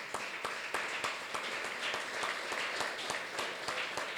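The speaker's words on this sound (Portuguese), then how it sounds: "quero pedir uma forte salva de palmas para Alagoas" A convention audience breaks into steady applause, many hands clapping in a dense, even patter that carries on without pause from a moderate distance.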